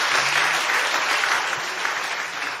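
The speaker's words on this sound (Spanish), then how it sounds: "Den un aplauso al Señor, es la promesa más grande." A church congregation claps together in a steady wash of applause, fairly loud and sustained through the short stretch, with no voices over it.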